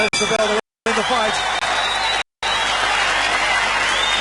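At a 1990 professional boxing bout in Melbourne, the arena crowd gives a moderate, steady burst of applause after the final bell. The clapping is broken by two brief dropouts, and there are hints of talk beneath it.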